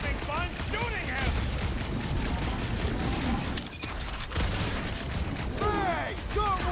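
Sustained gunfire from the video game Marvel's Guardians of the Galaxy, with rapid shots and pops running steadily throughout, mixed with game voices and effects.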